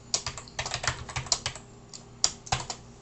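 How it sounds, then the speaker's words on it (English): Someone types on a computer keyboard at a close, moderate level, with clustered bursts of sharp key clicks broken by brief pauses. "I can start typing anything I want"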